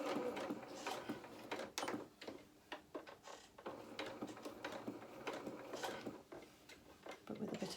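Sewing machine running a row of gathering stitches on a doll's jacket, a quiet, fast mechanical ticking that starts and stops in short runs, with occasional light clicks from the machine.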